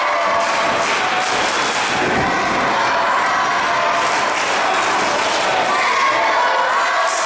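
Steady, dense roar of a wrestling crowd cheering at a live event, loud and continuous throughout with no clear speech on top.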